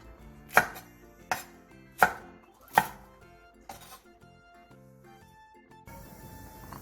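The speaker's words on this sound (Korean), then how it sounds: "꽈리고추 크기한 줌을 크기에 따라 먹기 좋게 2에서 3등분으로 잘라주세요." A knife chops a handful of shishito peppers into two or three pieces each: four sharp, loud cuts land about once per second, followed by softer, quicker cuts, with faint music underneath.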